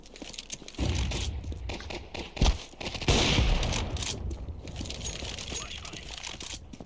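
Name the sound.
flashbang grenade exploding in a video game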